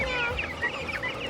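Laying hens cluck in a rapid, overlapping chatter close at hand, a busy flock sound lasting about a second.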